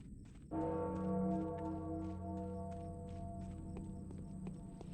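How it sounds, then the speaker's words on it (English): A bell tolls in the horror game Pathologic, one deep resonant strike that rings out and slowly decays, with soft footsteps tapping underneath. "when you hear the bell toll, you know you've triggered a next event"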